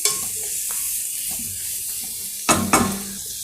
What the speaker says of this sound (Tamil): ஸோ இந்த கேப்சிகம் வந்து அப்படியே ஃபாஸ்ட்டாக வதக்கிடுங்க.